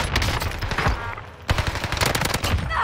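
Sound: heavy gunfire in the video game Call of Duty: Warzone

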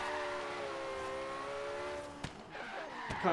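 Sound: Porsche car driving and skidding in video game Forza Horizon 3

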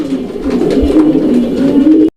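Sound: Indian Lotan pigeons cooing

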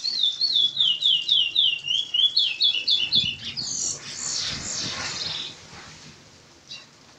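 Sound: curió (chestnut-bellied seed finch) singing continuous song

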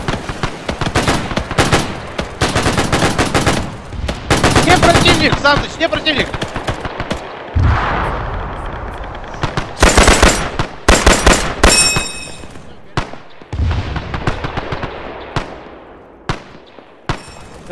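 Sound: gunfire in the video game Arma 3

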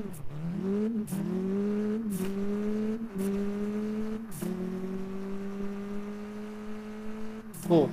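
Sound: V10 Mitsubishi Eclipse engine revving in Car Parking Multiplayer video game

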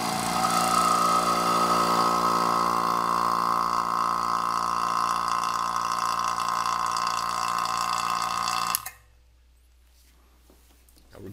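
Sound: vacuum pump running on a vacuum chamber

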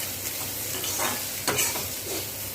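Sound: grated coconut being sautéed in a pan

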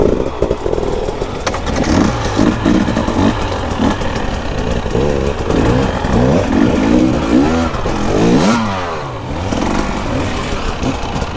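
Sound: Husqvarna 300 two-stroke dirt bike engine revving

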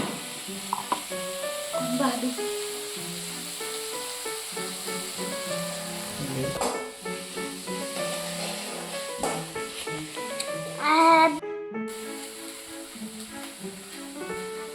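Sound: garlic and coconut sizzling in pan

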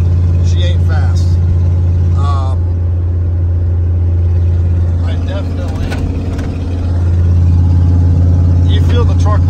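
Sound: 1996 Ford F250 truck engine straining while towing trailer

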